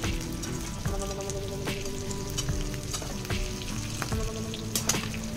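Stuffed capsicums, Maharashtrian style, sizzle and fry in a pan with a constant crackling hiss, close and fairly soft, broken by small pops and occasional clinks as they are turned.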